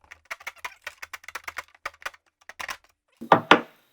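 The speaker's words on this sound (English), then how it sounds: "I'm just going to use a little freaking sheetrock saw. It's hard to cut in this corner" A small sheetrock saw rasps through kayak plastic in a tight corner, a run of short, quick strokes in close succession, near and fairly faint, ending with two louder, coarser pulls.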